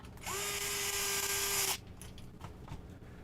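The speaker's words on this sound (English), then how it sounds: "I just screw them down enough so they're on there." A small power driver whirs steadily for about a second and a half as it screws C-hub knuckles onto an RC crawler axle, then cuts off, leaving faint clicks and handling of small parts.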